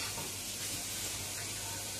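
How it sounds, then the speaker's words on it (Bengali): Onions fry in a pan with cloves and cinnamon, a quiet, even sizzle that holds steady from start to finish with no talking. "পেঁয়াজটা ভালো করে ভুনে নেব"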